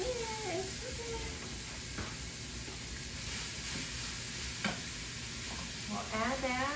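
Meat sizzling and frying in a Pampered Chef Quick Cooker for a penne with meat sauce, a steady loud crackle with stirring scrapes and faint voices underneath.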